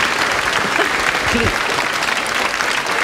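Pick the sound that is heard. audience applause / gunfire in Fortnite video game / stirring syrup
audience applause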